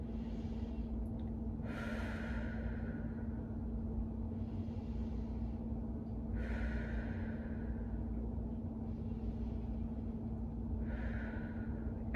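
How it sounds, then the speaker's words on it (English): Deep breaths drawn in and out during a shoulder abduction exercise, several slow breathy bursts spaced a few seconds apart, fairly near and soft over a steady low hum, with no talking. "you want to do 3 breaths. Deep breaths in,"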